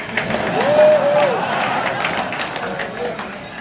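Crowd applause at a talk by Apollo astronauts, a steady broad wash of clapping from a large audience, with a brief tone or whistle rising above it early on.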